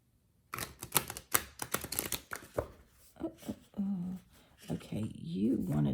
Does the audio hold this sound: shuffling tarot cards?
yes